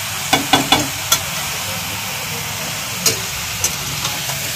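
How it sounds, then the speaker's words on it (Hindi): Chicken fries and is stirred in a pan: a steady sizzling hiss runs throughout, broken by a few sharp scraping clatters of the spoon against the pan at irregular intervals, with no talk. "तो हम इसे अच्छे से भूनेंगे, एक से 2 मिनट ऐसे अच्छे से चला लेंगे।"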